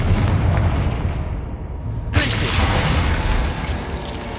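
Confringo blasting spell in the Hogwarts Legacy video game, loud continuous booming and crackling explosions with a sharp burst midway, dense and close.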